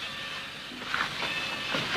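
A train begins to pull away, a steady broadband rumble and hiss with faint squeals and light clanks building gradually over two seconds.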